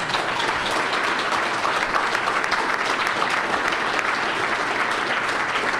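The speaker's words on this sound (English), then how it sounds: "How about a round of applause for our candidates?" An audience at a mayoral election debate claps for the candidates, a dense, sustained round of applause from a crowd that holds steady and loud throughout.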